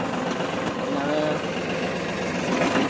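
A tractor with a potato digger hitched on runs at a steady, even drone in a potato field, its engine note unbroken throughout, with speech faintly present.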